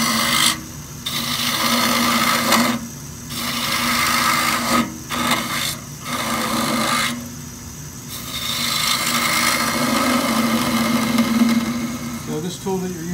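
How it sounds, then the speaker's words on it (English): A wooden top spinning on a lathe while a Thompson 3/8 inch detail gouge cuts it, a continuous loud rasping scrape with brief dips as the tool lifts, and talk in the background. "This is the Thompson 3/8 inch detail gouge."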